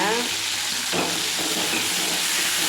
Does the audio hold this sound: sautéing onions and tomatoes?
yes